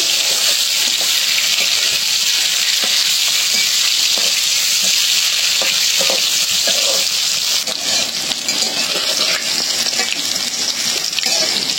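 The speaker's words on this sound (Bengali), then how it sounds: "একটু লবণ দিয়ে ভাজলাম" Cauliflower frying in oil with a sprinkle of salt, a loud, continuous close sizzle with occasional stirring scrapes and no pauses throughout.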